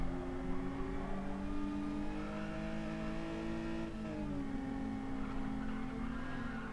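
Race car in Gran Turismo 7 revving steadily with sustained engine harmonics, dipping briefly as it brakes then climbing again as it accelerates, loud and continuous with no talking.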